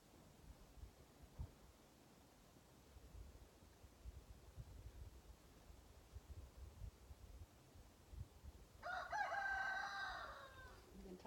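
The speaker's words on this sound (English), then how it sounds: "The rooster" A rooster crows once, a loud drawn-out call near the end, set against a quiet room with faint background murmur and low rustling.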